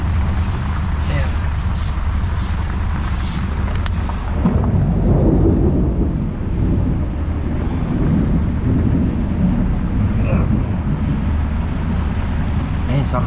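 Thunder rumbles low and heavy through a steady downpour, a broad rolling roar that swells after the first few seconds and keeps going under the hiss of heavy rain.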